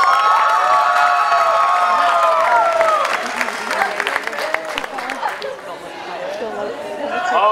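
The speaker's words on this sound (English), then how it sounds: "Everyone, nice big round of applause to Dan." A crowd at a university talent show cheers and whoops loudly, then claps for a few seconds before the applause fades into scattered chatter.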